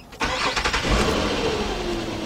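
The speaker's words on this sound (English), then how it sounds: "I'm gonna start the car up" A 2004 Nissan Maxima 3.5 engine cranks briefly and catches, settling into a steady, close, fairly loud idle after the start.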